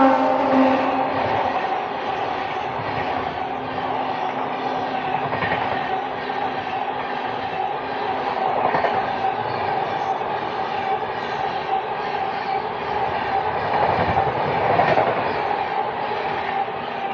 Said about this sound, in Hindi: दोस्तों ये गया न्यू दिल्ली भुवनेश्वर दुरंतो, गजब की गाड़ी है।